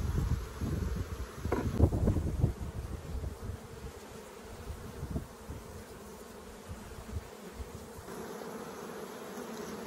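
Dense buzzing of many honey bees swarming nearby from an opened hive during a honey harvest, steady and droning, with some rustling and wind bumps, loudest at the start.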